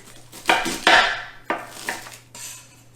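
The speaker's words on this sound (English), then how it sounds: "I like to just slice it real thin and then go back and chop it up." A knife chopping cabbage by hand on a cutting board for KFC-style coleslaw, several sharp close knocks spaced irregularly with soft scraping between them, no voices.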